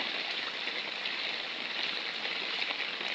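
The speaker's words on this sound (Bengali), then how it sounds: "দেখো বৃষ্টি" Heavy low-pressure-system rain pours down in a dense, steady hiss, close and unbroken for the whole stretch.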